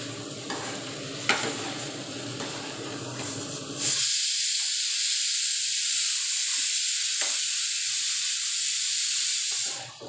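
Masala and vegetables are stirred in a pan: scraping and shuffling with a low sizzle at first, then a loud, even hiss of frying takes over, close and steady until it fades slightly at the end.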